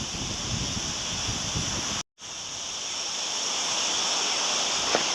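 Wind gusting across a country house garden in Mallorca, a loud, steady broadband roar buffeting the microphone, broken by a short moment of silence before resuming.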